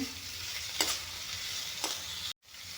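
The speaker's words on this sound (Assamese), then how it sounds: "অলপমান ভাজি ল'ম মাছখিনি।" Small fish frying in a pan with turmeric, a close steady sizzle with a couple of brief scraping stirs, then a sudden momentary cut before the hiss returns; no talking.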